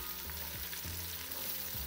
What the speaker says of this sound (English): we need to add the ginger, the chopped ginger. And fry that with the onion